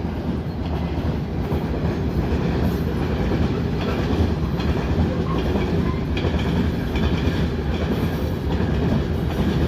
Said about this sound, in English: So this is your fertilizer special train.